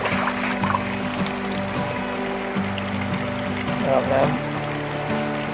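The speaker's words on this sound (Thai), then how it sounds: "ก็จะมีลำธารนะครับไหลผ่าน" A stream flowing past a roadside spot with closed shops in Mae Chaem district, Chiang Mai, giving a steady wash of water under a continuous engine-like hum and some background voices.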